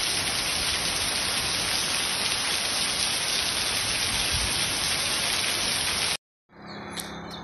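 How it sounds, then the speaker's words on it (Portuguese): Dense, heavy rain in Brazil's northeastern sertão roars steadily and loudly up close, then cuts off abruptly into a brief quiet with faint background sounds. "Chuva boa, viu?"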